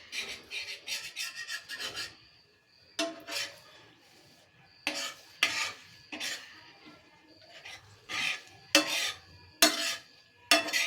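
Egg poriyal stirred in a pan, a spoon scraping and rasping against the metal in repeated bursts of strokes separated by short pauses, close and fairly quiet.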